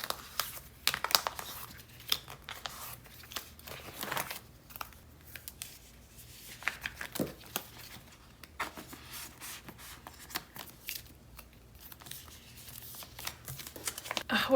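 Plastic-sleeved photocards being shuffled by hand, a busy stream of close crinkling, sliding and soft clacking that rises and falls in density for several seconds, with no voice over it.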